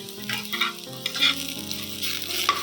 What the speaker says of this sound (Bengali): এই দেখো ভাজা প্রায় হয়েই এসেছে